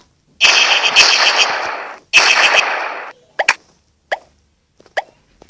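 A potato launcher weapon fires in a video game, giving two long, loud rattling bursts followed by a few short, sharp pops and thuds, with brief silences between them.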